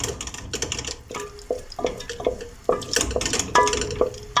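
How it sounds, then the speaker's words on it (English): White sauce for pasta stirred in a pan, with repeated scrapes and clinks of the utensil against the metal in an irregular rhythm, close and fairly loud, alongside a faint wet bubbling. "So keep on stirring"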